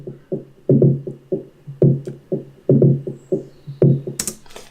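A street drummer's percussion sample is heavily carved with aggressive EQ, leaving a thin, boxy, hollow thump pattern of quick, evenly spaced hits in the low-mid range, closing with a couple of sharp bright clicks.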